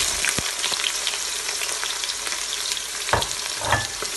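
Onions fry in hot cooking oil with a dense, continuous sizzle, broken now and then by soft knocks and scrapes of stirring.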